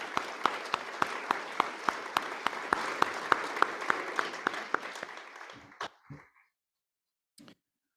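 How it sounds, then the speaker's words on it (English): Audience applause at an author event, a steady wash of clapping with a few sharper individual claps standing out, tapering off after about five seconds into scattered final claps and then quiet. "Let's give them a round of applause for their support."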